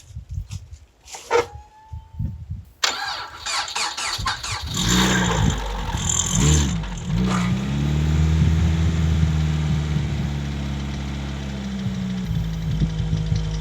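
A Nissan SR20 turbo engine in a budget project car cranks with sputters and squeals, catches with a few revving bursts, then settles into a steady, loud idle close by, with no talking.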